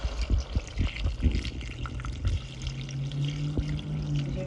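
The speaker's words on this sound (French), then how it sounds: "je vais directement y ajouter de l'eau pour permettre à ce que nos légumes soient dégelés." Water poured from a container into a pot of frozen vegetables while cooking smoked fish with amaranth leaves, a steady splashing pour with wet bubbling that settles into a fuller, filling tone, heard alone and close.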